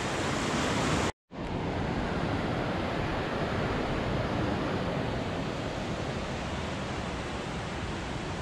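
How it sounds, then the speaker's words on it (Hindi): Fast-flowing river runs beside a hiking trail near Kasol, a loud, steady rushing roar of water close by, broken by one brief cutout near the start, with no talking. "और ट्रैक के साइड में रिवर है, काफ़ी तेज़ बहाव है इधर पानी का, आवाज़ आपको आ रही होगी पानी की।"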